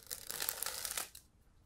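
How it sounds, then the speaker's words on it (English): A deck of playing cards is shuffled close up in one continuous crisp riffle of about a second, then stops into near silence. "some people love the sound of cards shuffling."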